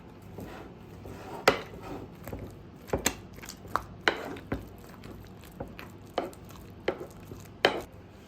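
Boiled potatoes with spices being pounded for a potato kuku, a dozen sharp irregular thuds with soft squishing between, close and alone without talk.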